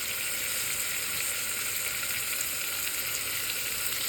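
Ginger and tomato fry in a hot pan with a steady, bright sizzle that holds evenly throughout, close and fairly loud, with no voices.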